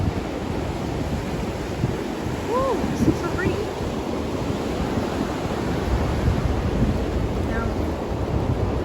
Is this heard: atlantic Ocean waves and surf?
yes